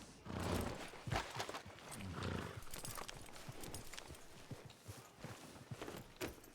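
Horse hooves clip-clop steadily in a video game, a close, fairly loud run of rapid hoofbeats over a noisy outdoor background that continues throughout.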